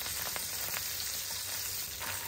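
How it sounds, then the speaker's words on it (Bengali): Bacha fish, marinated with a little lemon juice, fries in hot oil after being turned, making a soft continuous sizzle with faint crackles, quiet and close with no talk. "এক পাশটা ভাজা হয়ে গেছে, এবারে উল্টে দিচ্ছি যাতে ওপাশটাও ভাজা হয়ে যায়।"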